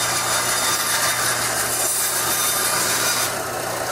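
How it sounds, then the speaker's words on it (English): A bandsaw cutting through wood, producing a loud, continuous whining roar of blade and motor that holds steady throughout. "the bandsaw does it rather quickly."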